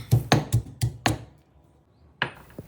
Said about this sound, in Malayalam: ഇനി ഒരു ഇടികല്ലിൽ ആദ്യം ഇഞ്ചി ചതച്ചെടുക്കാം.